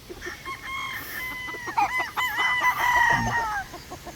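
Young roosters tied up outdoors crow one after another, several shrill drawn-out calls overlapping at middle distance, with soft clucking and faint outdoor noise beneath.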